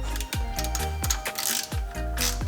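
Socket ratchet turning a thread tap into soft aluminum on a TH400 transmission case, a close, crisp run of clicking ratchet strokes in a repeating rhythm, each pull followed by a short pause.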